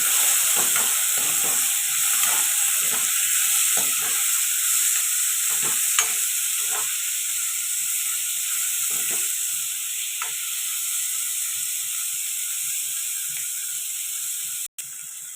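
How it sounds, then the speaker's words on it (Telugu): Three chillies frying in a pan for an egg dish: a constant sizzling hiss with scattered soft scrapes and taps as they are stirred, and one sharp click near the end. "మూడు మిరపకాయలు ఇవి ఇప్పుడు మగ్గించుకున్నామండి"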